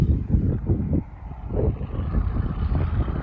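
An MTZ tractor engine runs in a field with a loud, low, pulsing rumble that rises and falls steadily, roughened by wind buffeting the microphone.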